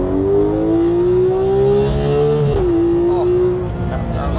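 A Porsche 911 GT3 of the 991.2 generation pulls hard, its high-revving engine climbing steadily in pitch toward 9000 RPM before a quick gearshift drops the note and it climbs again, loud and close from inside the car.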